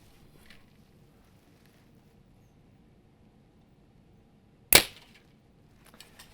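A 2022 Bowtech Revolt XL compound bow fires once with a single sharp, loud snap, standing alone against a quiet background with faint rustling afterward.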